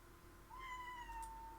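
A cat gives one drawn-out, rising then falling meow, faint and somewhat distant over a low background hum.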